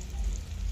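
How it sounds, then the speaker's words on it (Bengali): Desi chicken leg pieces and meat fry in a pan at a village cooking picnic, giving a steady, close, crackling sizzle that holds evenly throughout without any talk. "এবার রান্না হচ্ছে দেশি মুরগির সেই লেগ পিস এবং মাংসগুলোকে দিয়ে দেওয়া হলো।"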